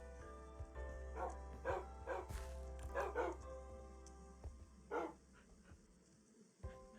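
Several dogs bark in the Minecraft video game, short sharp yips coming in bursts of one or two over a steady low hum, fairly faint and with no speech.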